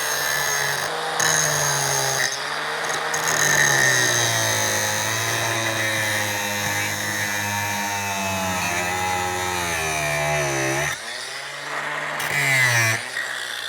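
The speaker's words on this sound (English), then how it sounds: "We got a brand new grinder disc, which is 24 grit." An angle grinder fitted with a new 24 grit disc cuts metal at a salvage yard, a loud sustained whine that shifts pitch as the load changes, briefly easing off near the end.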